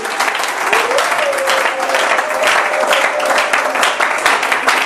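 A church congregation applauding, dense steady clapping from many hands filling the space at full volume, with a faint voice carrying over it.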